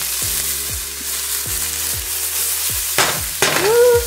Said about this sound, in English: Okay, I got my onions. Okay. Throwing my onions in here.